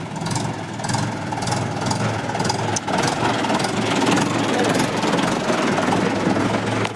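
A tractor engine runs on a farm in Gujarat, a loud, steady, close diesel chug with faint rhythmic pulsing that continues unbroken for the whole stretch.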